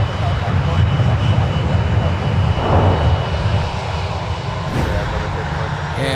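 An Icelandair jet lands on the south parallel runway at Minneapolis–St. Paul airport, its engines a loud, continuous roar heard from a distance, steady and broadband, with commentary spoken over it.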